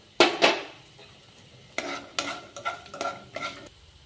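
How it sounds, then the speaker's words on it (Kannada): Capsicum frying in a pan at home is stirred with a spoon, giving a few sharp scraping strokes and light clatter over a faint sizzle, close and without talk. "ಹೀಗೆ ಫ್ಯಾನಿಗೆ ನಾನು ಕ್ಯಾಪ್ಸಿಕಮ್ ಫ್ರೈ ಮಾಡ್ಕೊತಿದ್ದೀನಿ"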